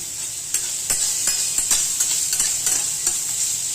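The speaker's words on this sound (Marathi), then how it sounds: "असे थोडेसे हलके फ्राय होऊन द्यायचे तेलामध्ये." Sliced bitter gourd frying in oil in a home kitchen pan, a steady bright sizzle with repeated stirring scrapes of a spatula every half second or so, close and clear with no talking.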